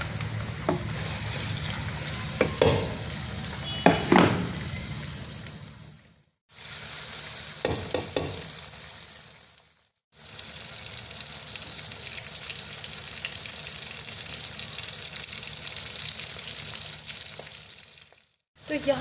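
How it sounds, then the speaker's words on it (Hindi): Onions browning in hot oil for a quail masala karahi, giving a close, steady sizzle and crackle with occasional stirring scrapes, broken by two short silent gaps. "ऑयल गर्म हो चुका है और इसको हम कर लेते हैं प्याज को पहले ब्राउन"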